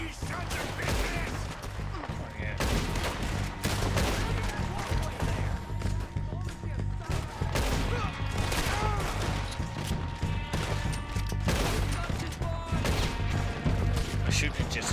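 Gunfire in a Red Dead Redemption shootout: repeated loud shots and bursts crack throughout a chaotic exchange, with voices shouting over the firing.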